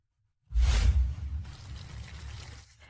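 Water is poured, beginning with a sudden loud splash after silence and settling into a steady stream that slowly fades.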